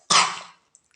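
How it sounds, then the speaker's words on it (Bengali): A young child with a cold gives a single close, harsh cough that fades out over about half a second, followed by near silence with a faint tiny sound. "আর ছোটটা এত ঠান্ডা লেগেছে, খুব কাশি হচ্ছে"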